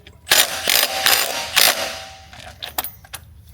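A ratchet gives a quick little hit to snug bolts during a boost controller install on a 1HZ engine, producing loud rapid clicking bursts up close, with no voices.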